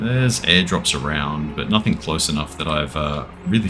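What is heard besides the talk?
No everyday noises stand out.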